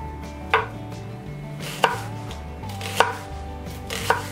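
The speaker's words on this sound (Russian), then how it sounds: "А лук мы режем тоненькими колечками" A knife cuts an onion into thin rings on a board, four crisp separate chops about a second apart, close and clear over a low steady background hum, no talking.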